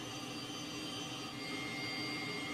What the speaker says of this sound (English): Alright, engine 1 is up and running